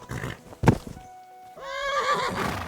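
A horse in the medieval role-playing game Kingdom Come: Deliverance II gives a loud, close whinny that rises and wavers for about a second, following a sharp thump and some hoof clatter.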